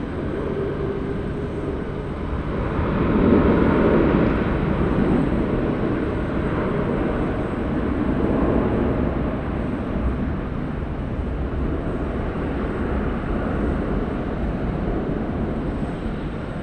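An airliner lands on runway 16 right at Sydney Airport, a broad rumbling roar that swells twice as it passes and then settles into a steady distant wash, with no speech.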